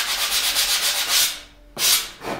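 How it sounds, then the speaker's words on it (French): Sandpaper rubs back and forth along the cut edge of a ceiling moulding in quick, even strokes, loud and close, pausing briefly before a couple more passes, with no talk. "Et on ponce un peu le bord pour avoir une découpe bien nette."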